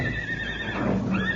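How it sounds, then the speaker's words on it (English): Horses whinny and snort restlessly, a couple of brief neighs rising over a low rumbling background, fairly close by. "I heard the horses getting so restless"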